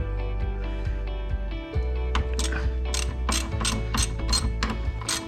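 A socket wrench ratchets against a nut on a bent ATV tie rod on a Kawasaki Brute Force 750, a run of close, rapid clicking bursts over a steady mechanical hum.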